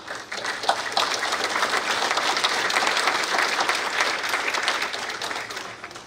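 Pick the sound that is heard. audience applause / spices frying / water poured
audience applause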